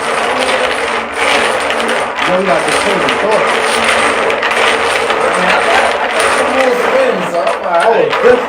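Dominoes shuffled across a table by hand, a steady clattering of tiles mixing under several people's casual talk throughout, close and fairly loud.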